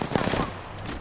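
Gunfire in a video game: a brief, rapid rattle of automatic shots near the start of the clip, then fading into low game ambience with a voice faintly underneath.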